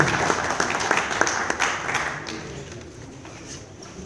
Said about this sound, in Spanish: Un fuerte aplauso, compañeros,